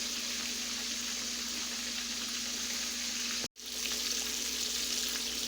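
Steady, close sizzling of pork chops frying in hot oil in a pot, a continuous crackling hiss with one brief dropout partway through.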